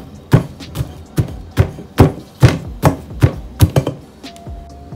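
Jamaican ackee fruit is pounded into a paste with about a dozen firm, evenly spaced thuds, close and fairly loud, with short quiet gaps between strikes.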